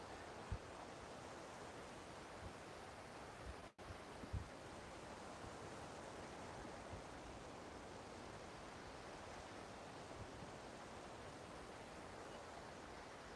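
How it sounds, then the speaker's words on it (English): A steady, full wash of ocean surf on a Padre Island beach rolls on without pause, broad and hissing, with a brief dip partway through and no voices. "That's good that you can hear the waves."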